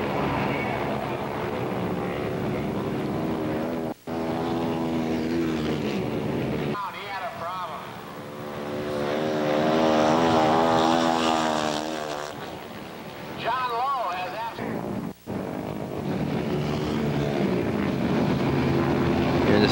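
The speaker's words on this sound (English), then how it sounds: "Sound of those engines." Motorcycle engines race around a half-mile dirt track in Springfield, Ohio, a loud continuous multi-engine drone with rising and falling pitch as bikes pass, under a commentator's talk.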